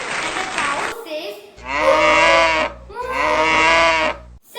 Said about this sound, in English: It was a cow. And the cow says,